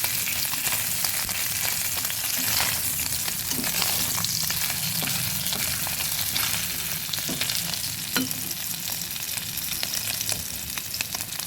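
Punti fish fry with onion stalks in hot oil, giving a loud, continuous sizzle that keeps going steadily, with occasional scraping stirs and no talking.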